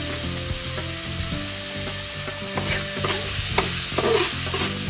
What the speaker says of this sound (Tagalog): habang ginigisa natin guys yung ating karne